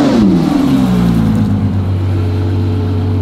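A Ferrari F12 N-Largo revs hard up close, its loud engine note rising then settling into a sustained, steady high-rpm drone with no talk over it.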